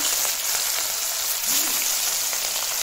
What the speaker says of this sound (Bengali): তো চলো মাছগুলা ভাজা হয়ে যাক